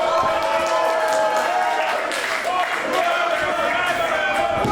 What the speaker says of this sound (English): Simmons taking some time to jaw Jack with the very vocal support for the GWF World Champion in the crowd